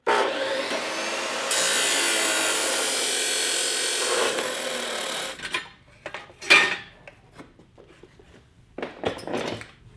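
A length of 2x2 metal square tubing is cut with a power tool: a loud, steady harsh grinding roar runs about five seconds and then stops, followed by scattered clanks and handling noises of the metal.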